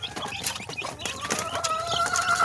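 A brooding hen clucks softly while sheltering and warming her chicks, with a few thin chick peeps rising over a low, steady farmyard murmur; no one speaks.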